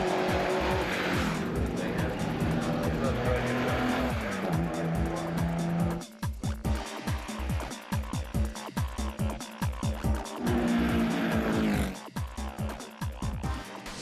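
Classic cars racing quarter-mile sprints at a seaside speed-trial event on the Geelong foreshore, loud engines roaring and revving up through gears, with tire squeal and sharp gear-change bursts, several runs passing nearby.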